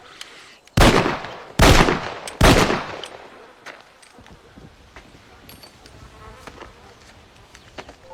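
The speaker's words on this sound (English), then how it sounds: "John's gun fires 3 shots, but the 4th bullet jams the gun" A revolver in the Red Dead Redemption video game fires three loud, evenly spaced shots about a second apart, then jams, leaving only faint ambient game noise and small clicks afterward.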